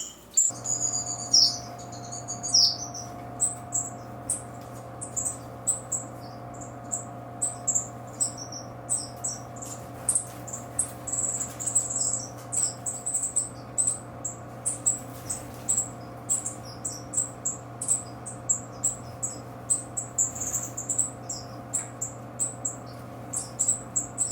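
High, thin peeping chirps from 3-4-day-old newly hatched chicks in a nest in an aviary repeat quickly and continuously over a low steady hum, several small voices overlapping close by.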